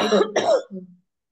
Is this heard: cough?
yes